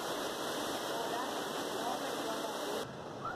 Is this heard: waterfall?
yes